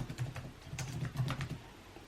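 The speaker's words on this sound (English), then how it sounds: "So if I have my fingerless gloves on, obviously I can just type" Someone wearing fingerless gloves types on a computer keyboard in a quick, irregular run of soft key clicks, close up and quiet.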